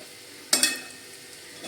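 A spoon stirs spice masala through potato slices in a pan for spicy batatyache kaap, giving two quick scraping clinks followed by a faint sizzle.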